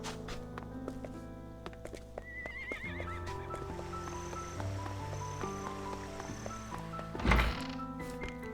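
Horses whinny in the Octopath Traveler 2 video game, a clear neigh rising over soft music, with a heavy thunk and hoof clip-clop near the end.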